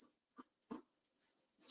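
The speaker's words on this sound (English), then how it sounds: "oh, now we're barking. What are you barking at, son?" A dog indoors gives a few short, muffled barks and huffs, spaced out among brief quiet gaps.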